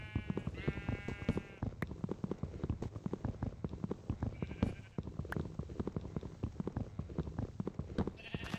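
Sheep in the Minecraft video game bleat several times in short, wavering calls, set against a steady clatter of clicks and footsteps that runs throughout.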